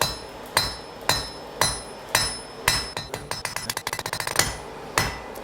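A blacksmith's hammer strikes hot metal while forging a nail, in steady, ringing blows about twice a second, then a quick flurry of lighter rapid taps before the heavy rhythm resumes.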